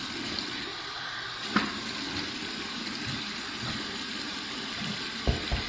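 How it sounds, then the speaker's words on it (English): Steady running cold water with a couple of brief splashes as a face is rinsed after shaving, close by, continuing throughout. "Here's my cold water rinse."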